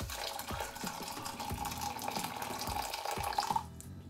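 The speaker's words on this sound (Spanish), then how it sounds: "echo agua caliente." Hot water runs and splashes continuously over aquarium gravel, with irregular soft thumps and trickles as it is poured and stirred, close and fairly quiet.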